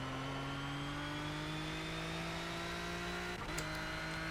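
Renault RS.01 race car engine in Project CARS, a steady high-pitched drone holding near-constant revs, with a brief shift or blip toward the end, loud and continuous with no voices.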